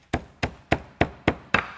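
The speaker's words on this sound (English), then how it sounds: "beat them with a rolling pin or a meat mallet or whatever you have" Graham crackers sealed in a Ziploc bag are struck with a rolling pin or meat mallet, six sharp, evenly spaced thumps close by, each with a brief crunchy decay.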